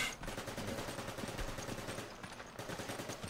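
Rapid automatic gunfire from Resident Evil 5 gameplay, a dense, continuous rattle of shots at steady volume throughout, with no voices over it.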